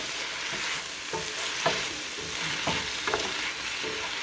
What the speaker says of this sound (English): And again, it's still on low heat. See, it's got low heat. And I'm going to stir it.